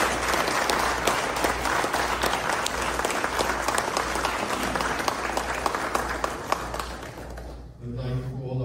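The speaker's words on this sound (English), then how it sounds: "please join me in congratulating our newly invested third-degree Knights of Columbus with a round of applause" Sustained applause from an audience for newly invested third-degree Knights of Columbus at an Incarnation Council ceremony, dense steady clapping filling the room for about eight seconds before fading as a voice begins.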